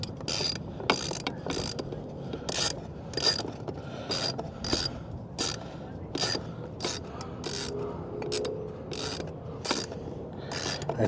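A bolt is screwed by hand into a backing plate while installing port holes and hatches on the Pond Prowler, giving a steady series of close ratcheting clicks and creaks that repeat roughly every half second.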